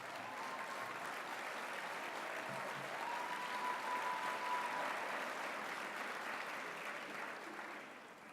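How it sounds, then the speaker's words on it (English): Applause at a journalism award ceremony for Josanne Lopez, a soft, distant, continuous patter of many hands from a large room, steady throughout and easing slightly at the end. "Stand up and give Josanne some applause"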